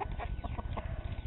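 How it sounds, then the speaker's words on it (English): A rooster clucks in short, close, repeated bursts on a backyard flock, a quick uneven run of low clucks with no talking. "Look at the rooster."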